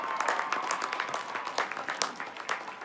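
Audience at a Master of Social Work and Nursing graduation ceremony claps, a fairly soft, even patter of many hands lasting a few seconds, with no talk over it.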